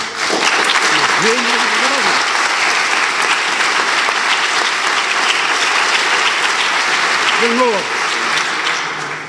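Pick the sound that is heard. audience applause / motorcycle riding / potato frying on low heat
audience applause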